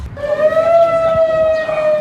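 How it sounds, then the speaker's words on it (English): A steady emergency siren tone during Hurricane Michael evacuation in Cedar Key, Florida, holds at one pitch with rich overtones, loud and continuous, rising slightly toward the end with faint low rumble beneath. "the emergency siren warns residents to leave by 8 p.m. tonight"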